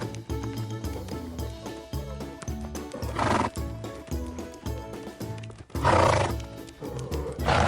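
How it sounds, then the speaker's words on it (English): A farm horse neighs loudly and repeatedly while its hooves clip-clop in a steady rhythm, close by, with no talking. "Horses help farmers carry heavy things."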